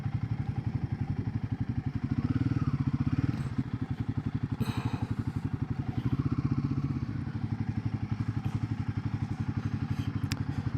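Royal Enfield Guerrilla 450 motorcycle idling close by, a steady low thudding engine pulse that runs throughout with a slight rise in revs near the start, no talk.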